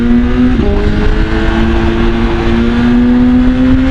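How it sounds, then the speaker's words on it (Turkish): A BMW S1000RR motorcycle on the road, its engine holding a steady loud drone with a brief shift in pitch near the start, close and continuous, with no distinct exhaust pops standing out. "Şu egzozun patlamasına bitiyorum ya"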